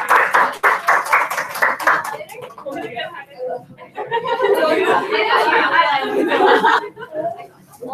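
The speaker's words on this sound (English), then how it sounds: "let's give them a round of applause" Audience applause at a wellness session, a burst of many hands clapping with chatter and laughter mixed in, following an earlier stretch of rhythmic claps.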